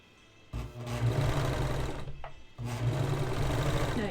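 A serger sewing machine runs in two loud, steady bursts of rapid mechanical whirring and stitching, separated by a short pause, with no talk over it.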